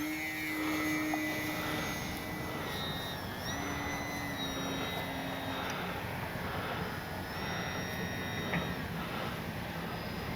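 Electric motor of an E-flite Sportix RC plane at about three-quarter throttle, a steady whining drone with tonal sweeps as it passes, faint and somewhat distant.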